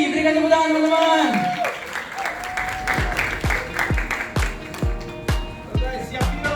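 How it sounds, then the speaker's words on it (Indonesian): Crowd applause welcoming a guest star at an Indonesian fan meet-up, clapping and cheering rising under a host's voice while he speaks, with sharp rhythmic claps standing out near the microphone. "Berikan tepuk tangan teman-teman."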